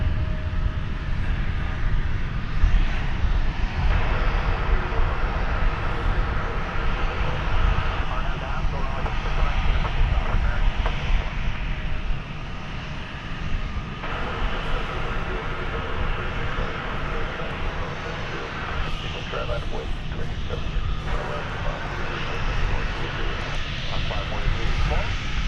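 American Airlines jet airliner in Reno Air heritage livery, snow-peaked mountains on the tail, on the runway at DFW: a steady, loud engine roar that holds for the whole stretch, easing slightly partway through, with a voice talking over it.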